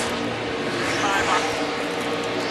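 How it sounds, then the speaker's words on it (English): A NASCAR truck's engine roars on the racetrack during a Lucas Oil 200 race, a loud, continuous mechanical drone that swells slightly midway, heard close as if from an onboard or radio feed. "Ron Hornaday, you want to know how loose his truck is? Just listen to this."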